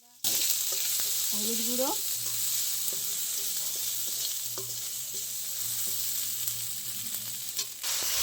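Ginger paste and a little turmeric powder hit hot oil in a pan, giving a steady loud sizzle and frying hiss throughout, with someone speaking briefly early on.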